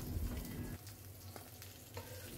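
Lightly fried fish pieces lifted out of hot oil in a karahi, with a steady close sizzle and a few soft scrapes and clinks, louder in the first moment and then a continuous quieter crackle.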